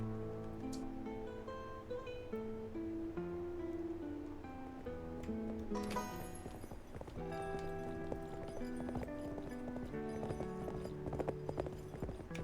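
Horse hooves walking in the Western game Cowboy Life Simulator, a steady clip-clop running under a dense bed of game music throughout.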